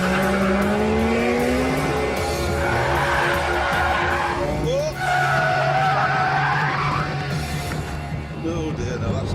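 A Ferrari 430 Scuderia skids on a test track, its tires squealing long and loud with shifting pitch over the roaring engine, close up, while someone talks over it.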